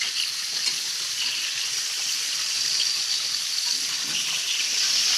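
Swordfish pieces sizzle steadily in a hot pan while being cooked for pasta with swordfish, a continuous bright frying hiss at an even level from start to finish, with no voices.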